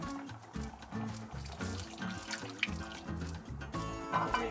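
Hot water runs into a pot of Filipino pork adobo, a steady close trickle and splash under the clatter of cooking, lasting several seconds.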